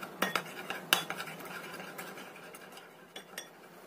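A spoon stirs a seasoning mixture of oyster sauce, pepper and powdered stock in a bowl, giving irregular metallic clinks and scrapes, sharper early and then lighter and sparser.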